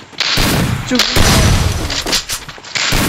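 Loud, dense gunfire bursts and booms from a shooting video game, rapid and continuous, with a voice talking over the action.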